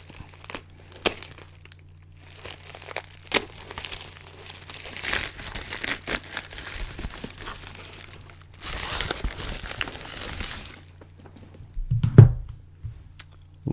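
Packaging around a 2024 US Mint Flowing Hair silver medal being opened, with bursts of close crinkling and rustling plastic and cardboard, brief pauses between handling, and a sharper clunk near the end.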